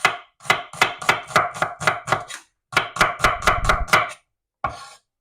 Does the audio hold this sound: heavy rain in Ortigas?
no